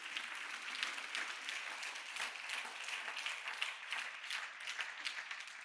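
A church congregation claps together in a dense, continuous ripple of applause that stays steady and moderately loud from start to finish, with no speech.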